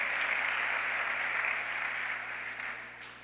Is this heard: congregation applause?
yes